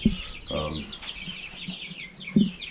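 Meat chickens cluck close by with soft, scattered calls, along with light rustling and scratching in wood chips around tomato vines.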